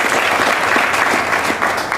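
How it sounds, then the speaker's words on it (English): An audience at a university motivational speech event claps in a dense, steady burst of applause that stays loud throughout. "Clap it up for Ms. Turner."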